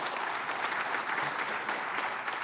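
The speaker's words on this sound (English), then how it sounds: "Could hear a round of applause for the two of them." Theatre audience applauding steadily, a dense, even round of clapping from many hands that fills the whole stretch without pause.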